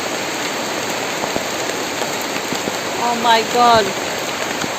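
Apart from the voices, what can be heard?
heavy rain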